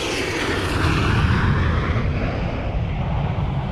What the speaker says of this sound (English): we were even able to record the sounds of an F-18 fighter jet